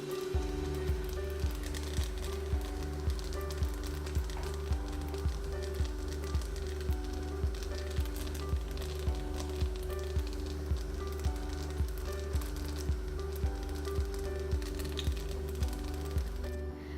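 Mushrooms fry in a browned butter and sage sauce with a steady close sizzle and crackle. A regular, evenly spaced ticking runs through it from start to finish, and no one speaks.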